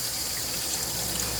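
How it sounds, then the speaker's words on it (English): Cold water runs from a kitchen tap into a sink in a steady, continuous hiss and splash, close and even throughout with no talking. "I'm going to use some cold water"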